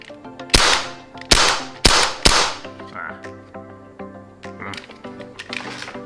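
A custom Hi-Capa 4.3 "Battle Cat" airsoft pistol fires four sharp, loud, close cracks in quick succession, two of them nearly back to back. Quieter clicks and handling noises follow.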